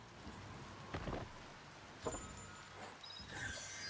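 Rain falls in the video game Biomutant, a faint steady patter with a few soft thuds and chimes from the game scattered over it.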